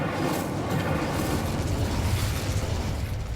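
Incendio fire spell burst in the Hogwarts Legacy video game, a sustained roaring blast of rumbling, crackling energy filling the whole stretch at steady loudness with no talk.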